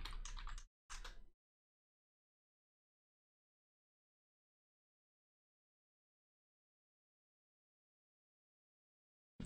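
Brief bursts of keystrokes as an address is typed on a computer keyboard, two quick clusters of clicks up close, then a long stretch of silence before a final single tap.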